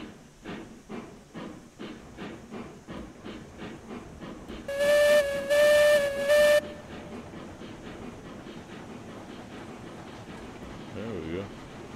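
Steam locomotive in the RailRoads Online game chuffing in a steady rhythm of exhaust beats, then a loud multi-note steam whistle sounds in three close blasts, with hiss and soft background talk.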